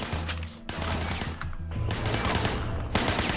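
Gunfire in the video game Sleeping Dogs, rapid bursts of shots in a dense, loud stretch broken by a couple of short pauses, with no talk over it.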